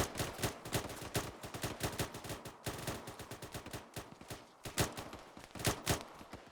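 Gunshots during an Arma 3 rifle patrol exercise, rapid bursts of sharp, evenly spaced cracks in quick succession, moderately distant and steady throughout with brief pauses between volleys.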